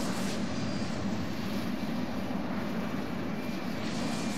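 A jet engine in the Roblox flight game Aeronautica, a supersonic transport, throttled down to a low setting: a steady, even broadband roar with a faint high whine, continuous and unbroken throughout with no talking.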